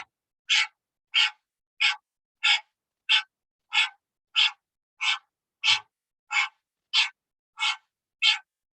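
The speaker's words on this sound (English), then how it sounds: "you're going to start panting like a dog" Rapid, evenly spaced open-mouthed panting breaths, about thirteen sharp huffs at a steady rhythm, close and clear, performed as a fiery breathing exercise with nothing else audible.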